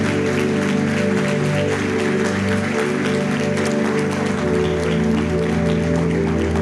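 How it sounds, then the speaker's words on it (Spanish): Congregation applause in a church service, steady clapping from a crowd blended with sustained music and organ-like tones throughout. "¿Le puedes dar un fuerte aplauso al Señor Jesús?"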